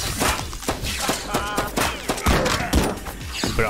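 Rapid rifle gunfire in the MADNESS: Project Nexus video game, loud and close, with dense repeated shots and impacts in a steady stream throughout.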